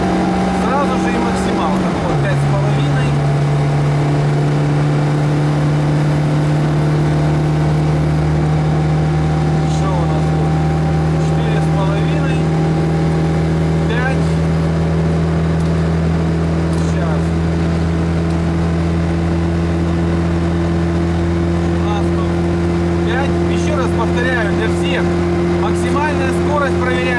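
A VAZ-2103 car with a reworked cylinder head cruises at speed in fifth gear, giving a loud, steady engine drone after one brief shift in pitch near the start, with wind and road noise and someone talking over it.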